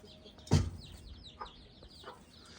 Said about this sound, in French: Alors aujourd'hui on sort les poussins, donc des poules